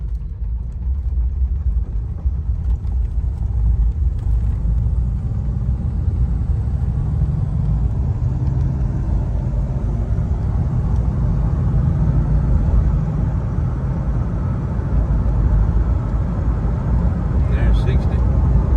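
Inside a 1979 Lincoln Collector Series on the road, with a steady low engine and road rumble throughout and someone talking over it.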